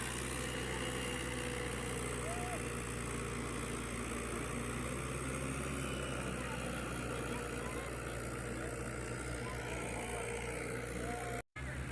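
A tractor engine runs steadily after being started, a continuous low idling rumble with vibration holding level and fairly close, briefly cutting out near the end.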